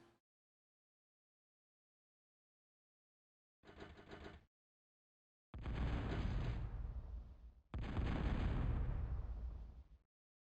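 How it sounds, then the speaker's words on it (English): Bomber bomb-run explosions in a 2004 real-time strategy match on the map The Cold Place: one short muffled blast, then two heavy, loud booming explosions with long rumbling decays, separated by silence and without talk. "And it comes in for another bomb run."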